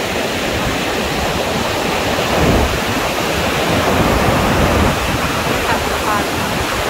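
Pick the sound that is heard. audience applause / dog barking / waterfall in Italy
waterfall in Italy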